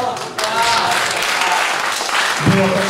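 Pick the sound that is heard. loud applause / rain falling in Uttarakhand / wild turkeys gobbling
loud applause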